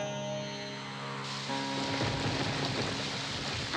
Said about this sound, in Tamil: மழை வருது இல்லை